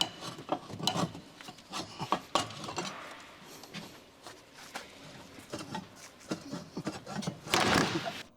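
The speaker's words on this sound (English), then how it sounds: "Use a pry bar to help remove the lower control arm." A pry bar levers the lower control arm off a 2013-2019 Ford Fusion, giving close metallic scrapes, knocks and rasping rubs in uneven bursts, ending in a louder grinding scrape.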